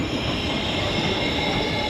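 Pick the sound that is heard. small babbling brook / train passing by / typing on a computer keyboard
train passing by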